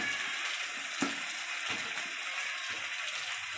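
Potato pieces dropped into mutton frying in hot oil, a steady loud hiss and crackle of sizzling fat with a few sharper bursts as pieces land, no talking.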